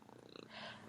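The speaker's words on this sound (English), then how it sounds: "That's my cat purring." Maxwell, a pet cat, purring close by in a quiet room, a soft continuous low rumble lasting under a second.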